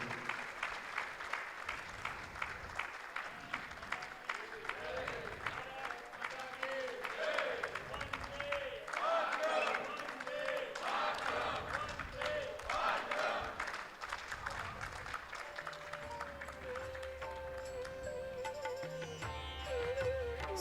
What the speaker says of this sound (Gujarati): તાળીઓનો નાદ કન્ટિન્યુ શરૂ રહેવો જોઈએ